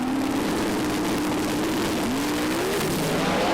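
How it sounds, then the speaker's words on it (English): Turbocharged Pro Mod drag cars launching off the start line at a British Drag Racing Championship round, a loud, sustained engine roar with a rising pitch sweep as they accelerate away. "Big tyre speed off the start line for Chris Isaacs"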